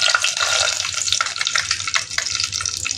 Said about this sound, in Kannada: ಇವಾಗ ನಾವು ಇದಕ್ಕೆ 1 ಸ್ಪೂನ್ ಆಗುವಷ್ಟು ಸಾಸಿವೆ ಹಾಕೊಳ್ಳೋಣ